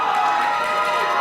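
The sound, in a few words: crowd cheering for wrestler King Bailey Blake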